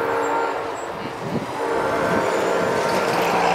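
An Amtrak northbound Palmetto passenger train rumbles past close by at Glen Allen, a loud steady roar with rattling wheels that swells toward the end.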